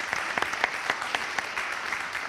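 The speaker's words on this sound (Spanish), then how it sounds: "un aplauso, por favor" An audience applauds at a live interview event, a dense, steady patter of many hands at moderate volume with a few sharper claps standing out, and no talking over it.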